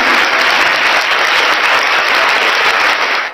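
Dense, steady applause from many hands fills the space as a welcome, loud and even throughout with no voices over it, tapering slightly at the very end.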